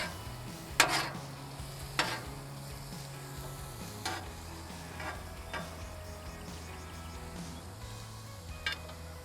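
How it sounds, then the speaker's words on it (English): Shrimp frying in a pan, a quiet steady sizzle close by, punctuated by a few sharp clinks and scrapes from utensils against the pan. "these shrimps aren't going to take long to cook"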